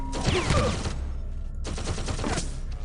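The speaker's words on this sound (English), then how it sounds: "Whoa, 2 turrets! Thought it was only 1 turret." Automated turrets in System Shock 2 fire two loud bursts of rapid gunfire, separated by a brief gap, close and harsh with no talk over them.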